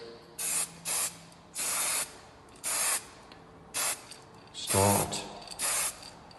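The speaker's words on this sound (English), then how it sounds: "I always use this Koenig product to spray the windows" Koenig aerosol spray paint, colour-matched to Eurocell, misted onto a scuffed UPVC window in a run of short, separate hissing bursts, one of them louder and longer, with near-silence between them.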